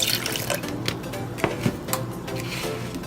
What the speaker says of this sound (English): I'm going to pour in some of the juice